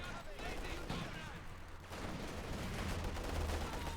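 Rapid machine gun fire crackles through a dense, continuous battle soundscape of gunshots and explosions in Company of Heroes 2, a World War II real-time strategy game, with a commentator's voice running underneath.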